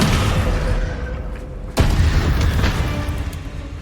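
A Descendo spell impact in Hogwarts Legacy hits as a single sudden crashing boom partway through, over an ongoing rumbling combat din with scattered smaller pops.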